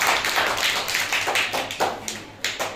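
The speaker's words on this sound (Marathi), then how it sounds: "टाळ्या वाजवा." A group of children clapping hands in a classroom, a quick run of close, rhythmic claps that loosens into uneven bursts toward the end.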